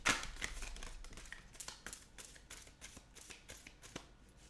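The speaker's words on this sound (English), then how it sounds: "And now I'm doing the second shuffle." Tarot cards being shuffled by hand, a deck called Enchanted Map, giving repeated quick papery riffles and snaps close up, with no talking over them.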